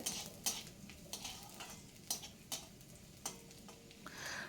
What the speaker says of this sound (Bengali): রসুনটা একটু ভালোভাবে ভেজে নেব